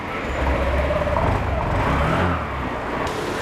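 A 2023 Honda Activa H Smart scooter engine starts up and runs close by, a steady motor hum that swells slightly and then settles, with no talking.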